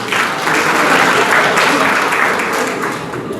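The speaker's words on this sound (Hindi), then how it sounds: "इनके लिए एक बार ताली बजा दीजिए।" A crowd at a public talk on Buddhism gives a round of applause, with full, steady clapping close by and fairly loud that eases slightly toward the end.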